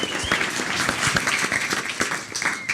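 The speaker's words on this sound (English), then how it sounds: "give you a round of applause" Theater audience applause for a speaker: a steady, dense wash of many hands clapping at once, sustained at an even level with a few scattered louder claps.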